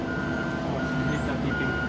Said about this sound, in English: I hate that beeping